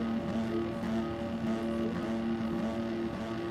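Husqvarna motocross bike held at high revs at the start gate of an outdoor amateur race in Sweden, a loud, steady, sustained engine drone alone.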